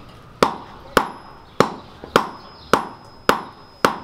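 Metal hammers strike in turn at a medieval-style forge during a blacksmithing demonstration, seven sharp ringing blows spaced roughly evenly about half a second apart, close and loud with no talk.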